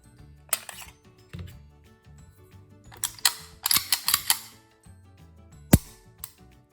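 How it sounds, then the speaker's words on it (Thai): A CZ SP-01 Shadow pistol is cleared, giving sharp metallic clacks and racking clicks in short clusters, close and loud over quiet handling noise, with a final hard snap near the end. "ก็มาดูตัวปืนกันนะคะเดี๋ยวมุเคลียร์ปืนก่อน"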